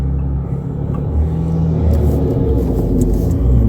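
A 4x4 without diff lockers engaged drives forwards off-road, its engine a loud, close, low rumble that rises slightly as it pulls ahead over uneven ground.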